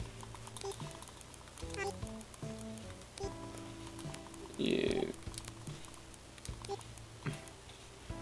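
Text is typed in Animal Crossing New Horizons as a string of soft, tinkly, ticking character blips in uneven bursts. A brief louder chime lands in the middle of the run, and the game's background music plays underneath.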